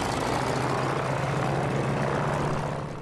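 A de Havilland Beaver floatplane, a World War II era aircraft, runs its engine with a loud, steady droning roar and a low throb underneath, continuous throughout and easing slightly at the very end.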